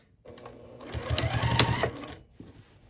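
A sewing machine stitches through a quilted tote bag padded with polyester batting, running in a short steady burst that builds to a brief louder peak and then stops.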